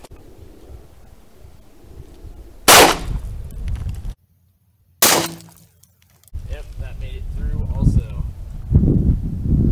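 A flat point brass .357 Magnum bullet fired at a bulletproof airplane window gives two sharp, loud gunshot cracks a couple of seconds apart, with a dead silent gap between them and rustling outdoor noise and wind before and after.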